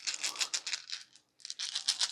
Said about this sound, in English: Roll our dice.